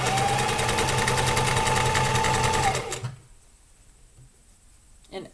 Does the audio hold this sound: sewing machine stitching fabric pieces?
yes